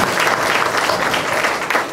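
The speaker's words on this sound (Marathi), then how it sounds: "त्या टाळ्या का वाजतात?" An audience at a Marathi celebrity chat event breaks into brisk, crowded clapping that rises and falls in small waves over a couple of seconds.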